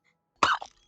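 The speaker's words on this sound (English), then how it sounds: "I'm just coughing." A single short cough, close and fairly clear, a quick throaty burst followed by a small trailing rasp, alone against near silence.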